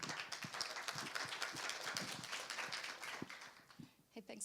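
A conference audience gives a warm round of applause for a speaker on antimicrobial resistance. The clapping is scattered and moderately dense, heard from a distance across the hall, and tapers off toward the end as a voice starts.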